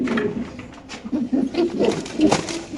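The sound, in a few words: pigeon cooing at a pigeon farm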